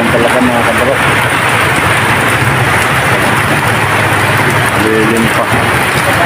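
Heavy rain suddenly pours down, a loud dense steady wash of drops on surfaces, with faint voices briefly audible beneath it.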